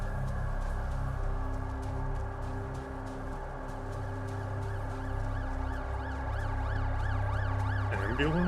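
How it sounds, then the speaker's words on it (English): An ambulance siren wails continuously, its rising and falling tone steady throughout and moderately distant under a low background hum, with no talking. "Ambulance?"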